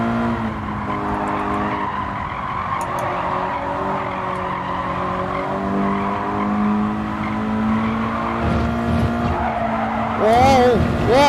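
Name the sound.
race car tires screeching in Gran Turismo 7 video game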